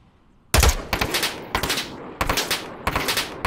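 Gunfire in the VR shooter Onward: four loud bursts of rapid automatic fire with sharp, close cracks, each followed by a short decaying tail, after a brief quiet start.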